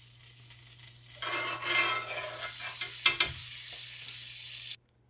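A vegan chicken quesadilla crisping in vegan butter, a gentle sizzle that swells after a moment, with a couple of sharp scrapes near the end before it cuts off abruptly; steady low hum beneath.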